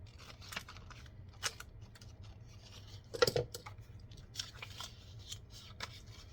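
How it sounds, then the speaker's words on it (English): Scissors snip paper for a junk journal page in a few soft, irregular cuts and rustles, with one louder crunching snip midway, close and quiet. "Should have got my longer scissors out."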